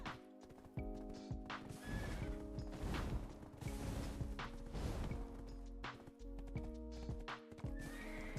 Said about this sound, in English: You okay, horse?